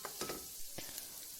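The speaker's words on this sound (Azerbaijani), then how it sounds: "kənarda gözlədirəm ki, qulançarlarım tam qovrulsun və yumşalsın" Asparagus spears roasting in a hot pan give a steady, quiet sizzle and crackle, with a few sharper pops and short stirring scrapes breaking through the low hiss.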